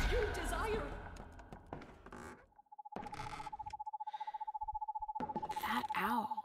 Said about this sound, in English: That owl.